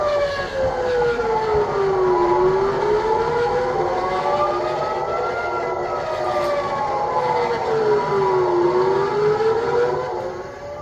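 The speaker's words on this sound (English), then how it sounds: "Sirens sounding over Tel Aviv as a barrage of missiles hit the nation." Air raid sirens wail over Tel Aviv during a missile barrage, several overlapping tones rising and falling slowly and steadily at a constant loud level, with no voices.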